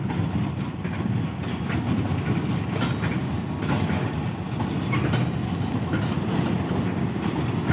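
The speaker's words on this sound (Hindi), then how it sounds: "जो कि प्लेसमेंट में बिजी है, शंटिंग लोकोमोटिव है" A shunting locomotive moves coal wagons at a coal unloading site, giving a steady rumble of rolling rail cars with faint wheel clatter, continuous and fairly close with no voices.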